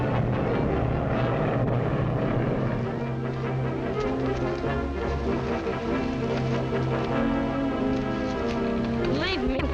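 A propeller airplane in a classic film noir drones steadily overhead, a continuous humming engine tone under people talking.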